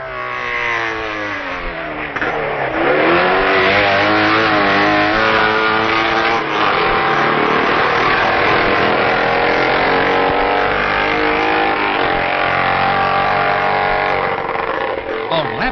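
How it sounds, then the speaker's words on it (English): Racing motorcycles at Signpost Corner during the 1965 TT, a British twin and Dave Ajax's Norton, howl past close by, the engine note rising and falling as they accelerate through the bend, loud and continuous throughout. "Here's Winnicombe at Signpost Corner, leading 8th place man Dave Ajax's Norton"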